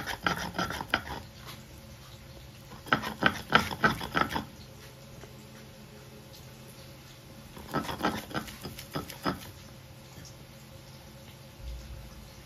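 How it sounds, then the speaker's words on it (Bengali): Chana dal and raw banana ground together by hand on a stone grinding slab: quiet rasping, rubbing strokes in two short bursts separated by lulls, close and fairly soft with no talk. "কাদা কাদা হলে পরে বেশ ভালো হবে না, তাই এটাকে আমি শিলে বেটে নিচ্ছি"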